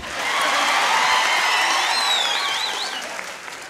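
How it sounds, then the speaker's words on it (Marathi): Audience at a birthday-organised student guidance event applauds loudly and steadily, with scattered cheers and a whistle, the clapping fading slightly toward the end. "आणि आता जोरदार टाळ्या होऊ द्या माझ्यासाठी."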